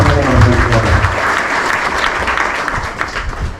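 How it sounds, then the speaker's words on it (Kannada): Audience at a Bangalore retirees' foundation-day function applauds as a guest takes the stage, with dense, steady clapping filling the hall from start to finish and a low rumble beneath. "ಅವರನ್ನು ತಮ್ಮ ದೊಡ್ಡ ಚಪ್ಪಾಳೆಯೊಂದಿಗೆ ಸ್ವಾಗತ ಮಾಡುತ್ತಿದ್ದಾರೆ."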